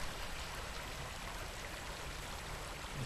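A creek in Stevensville, Bradford County, Pennsylvania flows with a steady, faint, even rush of water and no voices.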